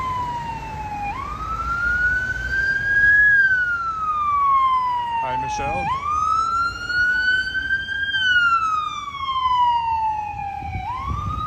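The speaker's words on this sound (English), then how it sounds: "ambulance coming" A wailing ambulance siren on a street in Regina rises and falls in long sweeps, loud and close, with a brief spoken greeting partway through.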